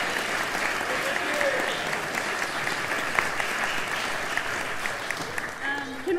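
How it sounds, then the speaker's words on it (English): Audience applause at a 40th-anniversary celebration event, a steady, dense wash of clapping from a large crowd lasting several seconds at even loudness. "Can we have one more round of applause for all these wonderful people?"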